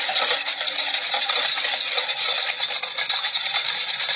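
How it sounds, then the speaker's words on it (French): Spoon stirring salt and sugar into a mixture in a bowl, a steady continuous scraping and swishing that runs the whole time, close and fairly loud, with no talking. "Et je mélange jusqu'à ce que le sel,"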